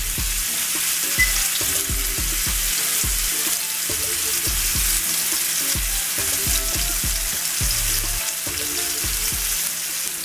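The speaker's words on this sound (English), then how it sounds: "I'm gonna go ahead and flip it over and get a sear on the other side." A ribeye steak sears loudly in a hot pan, a steady close sizzle with frequent small bumps and clinks under it, and no talking.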